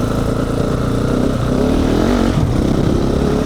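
KTM 690 Enduro single-cylinder motorcycle engine while riding on a first adventure ride, a loud, steady, throbbing drone under heavy wind rush, holding roughly constant with a slight swell in revs midway.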